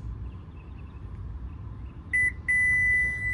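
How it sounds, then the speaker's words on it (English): From a Subaru Forester power tailgate setting its memory position, a short electronic beep is followed by a longer sustained tone, both clear and close over a low outdoor rumble. "You'll hear a beep and flash the lights."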